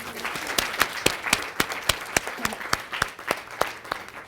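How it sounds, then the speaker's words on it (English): A small group claps in a loose, uneven rhythm for volunteers at a policy conference, distinct individual claps ringing out close by for several seconds with no talking. "give a round of applause to our volunteers."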